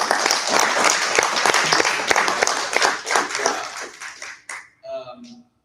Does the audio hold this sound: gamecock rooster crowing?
no